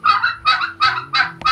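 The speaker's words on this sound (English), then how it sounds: "The turkeys are contained. They're chattering to me." Domestic turkeys penned on a homestead give a run of five loud, close honking calls in steady rhythm, each a short burst of chattering gobble, with no talking over them.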